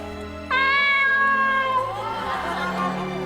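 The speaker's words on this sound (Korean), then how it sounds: "빛이에요 이거 고양이." A cat gives one long, clear meow, fairly close and loud, starting after a short quiet stretch and trailing off into softer background murmur.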